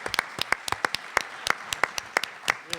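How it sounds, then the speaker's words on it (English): A small room audience at a jazz industry panel applauds its presenters, sparse individual claps standing out sharply at an uneven, moderate pace across the whole stretch, fairly close and without talk over them. "Can we just get another round of applause for all of our presenters?"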